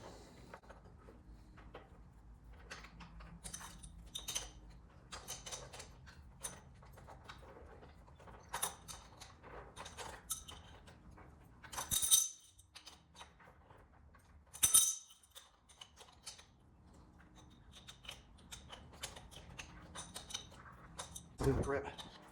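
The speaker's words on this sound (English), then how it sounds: "I'm just gonna screw them off" Bearings being unscrewed on a horse bike, a long run of faint metallic clicks, ratcheting and creaks with a few louder clanks, close and intermittent.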